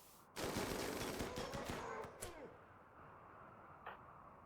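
A Rimworld colony fight brings rapid automatic gunfire, a dense burst of sharp cracks for about two seconds before the shots thin out into a few scattered reports and quiet.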